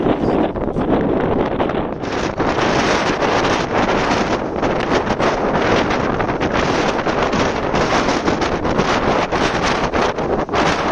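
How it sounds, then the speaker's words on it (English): Strong wind at Cabo da Roca, Portugal's westernmost point, buffets the microphone in a constant loud roar, gusting and rumbling without a break. "It's really windy on this side here."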